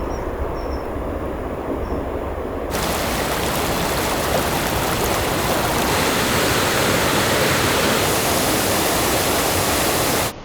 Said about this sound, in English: So behind me is waterfall number 1, Upper Sychryd Falls.